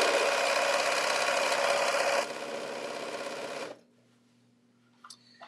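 A sewing machine runs fast and steady while stitching binding onto a quilt, then slows briefly and stops, leaving a faint hum and a few small clicks.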